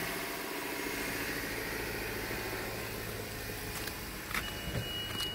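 A 2020 Honda CR-V idles after a remote start, a quiet, steady low engine hum with a faint hiss and a couple of light clicks near the end.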